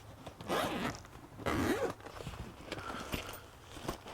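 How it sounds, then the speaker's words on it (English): Zipper on a motorcycle pannier bag with dual zipper entry, two long loud zipping pulls close by, followed by softer handling rustles and small clicks of the bag. "It's a dual zipper entry."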